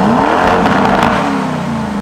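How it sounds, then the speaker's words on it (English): A Ford car's engine revs loudly and continuously in Corsa mode, a steady rising and falling mechanical roar heard up close with no talking. "You can give it a rev now."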